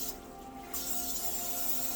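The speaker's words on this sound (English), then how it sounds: "Just going to spray inside" A nonstick spray can hissing into small baking molds, with one steady close spray burst that starts partway through and keeps going to the end.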